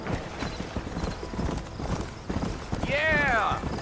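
Horse hooves clip-clop in a quick, steady rhythm across a Red Dead Redemption game scene, and a horse whinnies near the end as voices talk over the steps.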